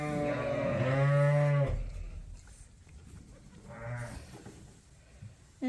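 Sheep and lambs bleat loudly and close by in a pen at feeding time, with one long strong call followed by a softer bleat and quiet shuffling between calls.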